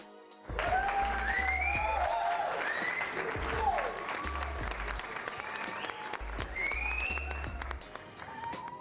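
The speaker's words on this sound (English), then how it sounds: "I think we need a round of applause for Ian on that one" Applause rings out during a livestream, a sustained patter of clapping running under the host's voice and its rising, animated pitch, with occasional louder thumps.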